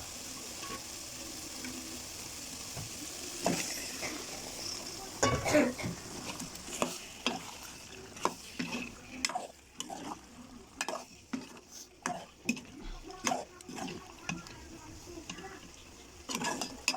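Chicken being sautéed with spices in a pan after the meat has been browned, with intermittent scraping and clinking of a spoon against the pan over a low sizzle, moderately close.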